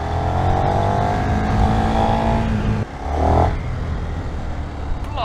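KTM 1390 Super Duke R EVO motorcycle engine pulling hard under load, a loud close roar that cuts at a shift and then surges again as it revs back up, with wind rush and no talking.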